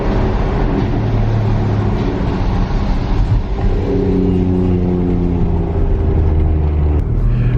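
A big-turbo BMW 335i engine runs steadily inside a wet tunnel, a loud, close, continuous rumbling drone with engine tones that shift in pitch as it holds and builds, echoing with no voices.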